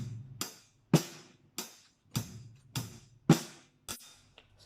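A drum kit plays a steady beat, each hit a sharp kick and cymbal-like crash, about seven strikes at an even pace, close and alone.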